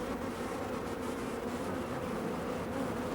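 Honeybees in a hive, a continuous low droning hum of many wings, steady and fairly faint with no voices.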